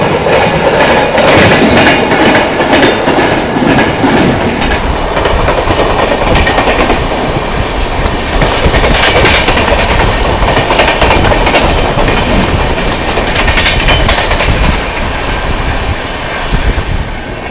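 The LTT Visakhapatnam Express passes close by on the Khandala Ghat line between Mumbai and Pune, a loud, steady roar of wheels and rattling coaches with rushing wind, heard from an adjacent intercity express.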